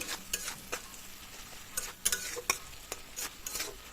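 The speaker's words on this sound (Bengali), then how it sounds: "তারপরে সব কিছু ভালো করে এইভাবে মিশিয়ে নেব" Spice paste and mustard with a little water stirred in a pan for a spicy tilapia fish curry, a spoon scraping and tapping in irregular strokes over a soft sizzle, close and alone.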